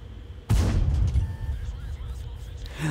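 A tank cannon shot booms suddenly in World of Tanks, a loud single blast with a rumbling tail that fades over a couple of seconds.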